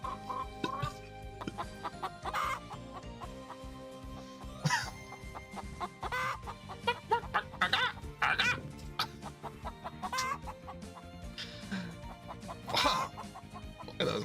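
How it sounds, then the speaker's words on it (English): Chickens in Ys: The Oath in Felghana cluck and squawk in irregular bursts over quieter background game music, fairly close and clear. "look at those llama chickens"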